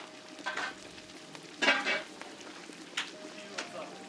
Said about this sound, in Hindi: खौलते हुए घी में कश्मीरी मिर्च डाल के तड़का लगाया।